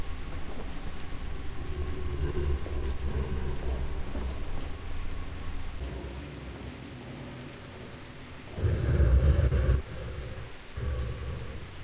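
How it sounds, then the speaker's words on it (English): Storm weather in the video game Metro Last Light: steady, heavy rain hisses throughout, and a deep rumble of thunder swells briefly near the end before the downpour carries on. "The weather effects are superb. The rain, the storms, the wind, the clouds, the sky, the fog, the wildlife"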